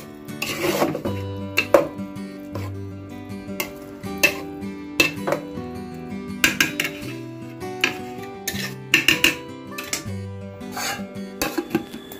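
Chicken khichuri being stirred in a pot after ghee and garam masala go in, a spoon knocking and scraping against the pot in repeated clanks and pauses, close and fairly loud.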